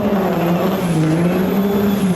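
A 6.7 Cummins diesel burnout truck holds steady on its staging limiter, a loud, continuous buzzing drone with a slightly wavering pitch and no gaps.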